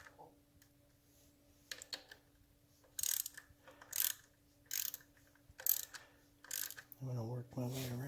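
Ratchet wrench tightening bolts on a 1974 Norton Commando engine during a bottom end rebuild, heard as about six separate bursts of rapid clicking spread across the clip, with a low steady hum underneath and brief talk near the end.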